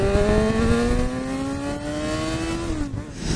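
A motorcycle accelerates hard inside a tunnel, its engine note climbing steadily in pitch with echoing overtones, then dipping briefly as it shifts near the end, loud and close throughout.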